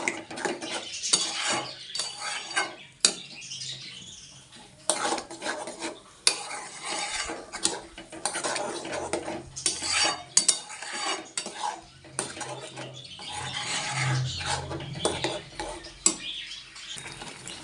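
Taro and chilli paste mixture stirred in a pan, a steady run of close metal scraping and rasping strokes with occasional clinks, irregular and busy, faint sizzle beneath, no speech.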